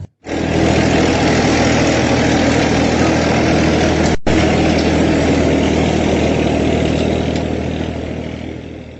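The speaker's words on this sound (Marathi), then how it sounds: "मला कळलं, ट्रॅक्टर." A tractor engine idles close by with a loud, steady low chugging rumble that runs unbroken for most of nine seconds before slowly fading.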